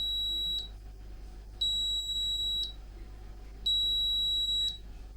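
A Cosori 5.7-litre pressure cooker signals it has finished: three long electronic beeps, each about a second, sound at steady intervals over a low constant hum.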